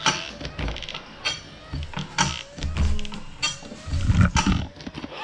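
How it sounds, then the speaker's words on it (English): A windshield wiper kit motor on a Polaris General XP 1000 side-by-side whirs and grinds in uneven, repeating sweeps, close by, with some rattling and mechanical groaning. "The motor does make noise."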